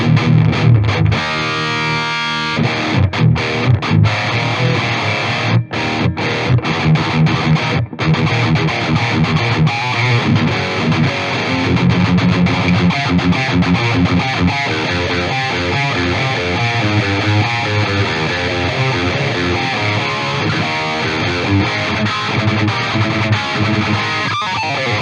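Electric guitar played through a Mesa Boogie single rectifier amp in modern mode with no boost and a V30 speaker, giving a loud, dense, heavily distorted high-gain tone that plays continuously for the whole stretch with no talking.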